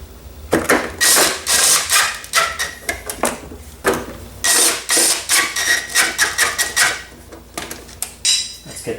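Metal clinks and clatters while a fastener is tightened on a Troy-Bilt self-propelled lawn mower, a series of close, loud, irregular bursts of rattling with short gaps between them.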